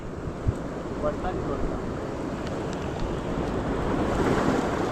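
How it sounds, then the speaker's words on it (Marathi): Konkan sea water surges up and down against rocks during monsoon fishing, a loud steady wash of surf mixed with wind buffeting the microphone, with no pauses through the whole stretch. "बघा पाणी झापकन असं खाली जातं आहे वरती येत आहे झापकन खाली येतं वरती येते"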